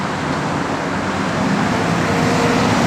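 A 1971 Dodge Demon's engine runs steadily at close range, a continuous broadband rumble with a faint hum, no voices.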